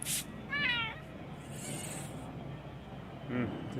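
A cat gives a sharp, complaining meow while being sprayed with flea spray, a short wavering cry near the start, followed by a brief hiss of spray and a small sound near the end.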